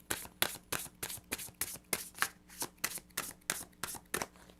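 Lenormand fortune-telling cards shuffled by hand in a quiet room, a fast even run of about a dozen crisp riffling flicks, close and distinct with no voices.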